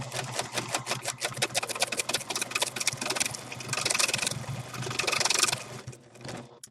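Close and fairly loud, a sewing machine chatters rapidly while sewing a satin edge finish, running in a few sustained bursts before stopping.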